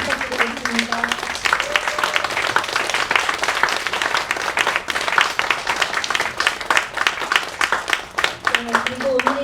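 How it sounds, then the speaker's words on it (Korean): Sustained applause from an audience for dancers at a traditional Korean dance performance, a dense wash of many hands clapping, loud and continuous throughout. "여러분 뜨거운 박수 부탁드리겠습니다"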